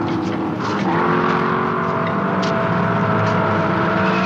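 Race cars running a road course through the esses, with a dense, steady engine roar that holds loud and close for the whole stretch and carries no talk.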